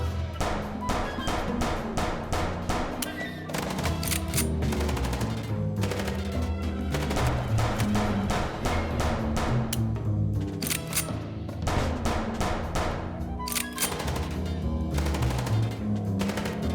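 Rapid, dense gunfire fills a take-cover-and-shoot sequence in the video game Chicken Police: Paint It Red, with continuous automatic bursts and sharp shots layered loudly and steadily for the whole stretch, without voices.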